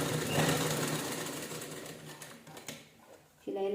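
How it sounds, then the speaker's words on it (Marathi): Sewing machine stitching a standing latkan-style sleeve: steady, dense mechanical whirring of the running needle, close and loud, slowing and stopping near the end before a brief hum. "शिलाई लॉक करून घ्यायची. वाटल्यास तर डबल शिलाई चालेल."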